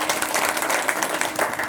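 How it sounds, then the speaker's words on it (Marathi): A crowd at a devotional kirtan during a Dnyaneshwari recitation ceremony in Kolpa, Jintur taluka, claps in a dense, steady burst of applause lasting the whole moment. "वा वा वा टाळी वाजवा."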